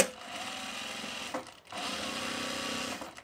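A sewing machine stitches a tool belt in two close, steady runs separated by a short pause, its motor hum loud and even with no talking.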